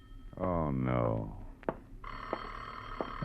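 In a vintage radio detective drama, a voice groans, then a telephone bell starts ringing steadily and fairly close, carrying on alone to the end.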